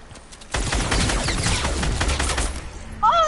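Rapid gunfire erupts in a video game tournament match, a sustained fusillade of close, loud shots running for a few seconds, with a voice speaking briefly near the end.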